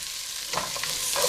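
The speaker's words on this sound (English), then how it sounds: "Give this a nice little stir" Vegetables sauté in a pan with bacon drippings, salt and pepper, giving a close, loud sizzle as a utensil stirs them, with a few scraping bursts of movement toward the end and no speech.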